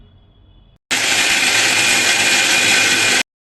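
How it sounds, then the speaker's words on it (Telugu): A kitchen mixer grinder runs in one loud, steady burst of about two and a half seconds, coarsely grinding red chillies, garlic cloves and salt, then stops abruptly. "దాంతోపాటు రుచికి సరిపడా ఉప్పు కూడా వేసి కచ్చా పచ్చాగా మిక్సీ పట్టాలి."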